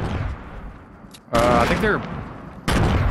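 Gunfire and explosions in Fortnite crackle in the distance, then two loud close bursts of rapid shots, with someone speaking briefly between them.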